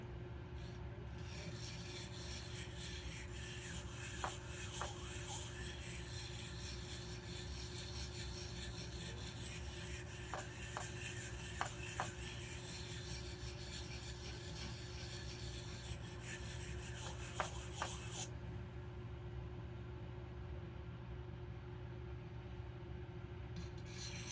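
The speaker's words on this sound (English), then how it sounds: "I'm worrying the burr off of this blade is what I'm doing" A burr is worked off a vintage Rough Ryder RR1287 pocketknife blade with very light pressure, giving a steady, faint, continuous rasping rub with a few small ticks, heard close and alone over low background hum.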